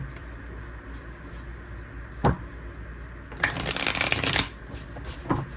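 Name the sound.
shuffling a deck of tarot cards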